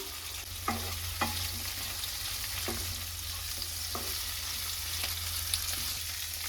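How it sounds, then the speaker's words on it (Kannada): Onion, chilli and capsicum fry in a pan for soya manchurian, giving a steady close sizzle. A spoon scrapes and taps the pan several times. "ಕ್ಯಾಪ್ಸಿಕಮ್ನ ಕೂಡ ಹಾಕೊಂಡು ಫ್ರೈ ಮಾಡ್ಕೊಳ್ತೀನಿ"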